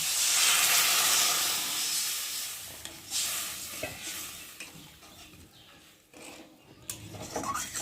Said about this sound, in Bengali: বন্ধুরা ঝোলটা ফুটে গেছে